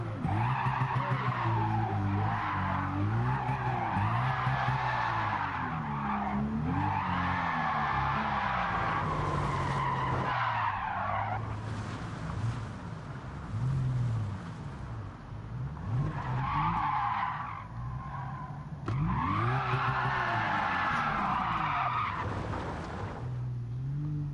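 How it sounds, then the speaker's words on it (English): Toyota 2JZ-engined 777 hp race car in Gran Turismo 7, engine revving up and down through gears with repeated long tire squeals and skids, steady and close throughout. "this 2JZ is actually really quiet for it to be 777 horsepower"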